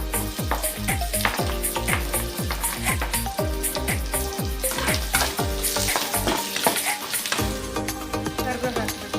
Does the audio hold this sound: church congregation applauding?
no